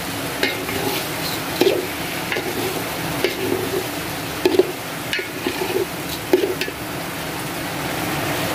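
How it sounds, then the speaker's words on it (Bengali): Washed, drained rice for pulao is stirred in a frying pan, a loud continuous sizzle broken by repeated scraping strokes of the spoon every second or so, with no talking. "ভালো করে নাড়বো"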